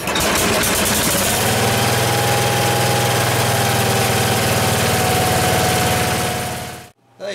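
A small tractor engine, freshly brought back to life, runs at a steady loud idle with a throbbing low rumble and knocking pulse that holds for about seven seconds before cutting off abruptly.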